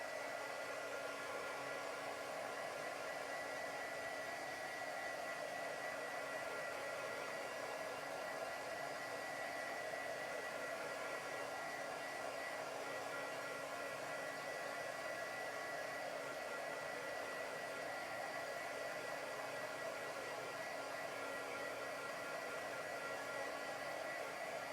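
A hair dryer blows steadily over wet chalk paste on a wooden pumpkin made as fall and Halloween decor. The airy whir holds at a constant level throughout, close by and alone, with no talk.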